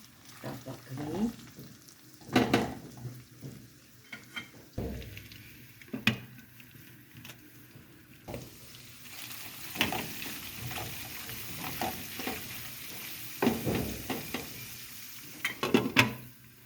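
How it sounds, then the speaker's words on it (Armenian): Tomato frying in oil in a pan, a quiet continuous sizzle broken by scattered scrapes and clatters of a utensil against the pan, with occasional brief voices. "Ձեթ հավելացնենք, հիմա թողենք տոմատը, որ տապակվի"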